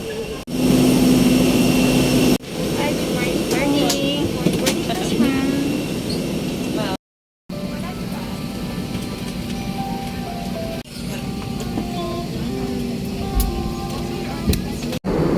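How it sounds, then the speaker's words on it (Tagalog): Aircraft engines roar steadily at an airport, a loud broad rumble and hiss that continues throughout, with people talking nearby and a brief dropout midway. "Diyan po kami sasakay sa aeroplano."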